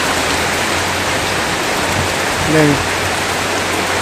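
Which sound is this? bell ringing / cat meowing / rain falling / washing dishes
rain falling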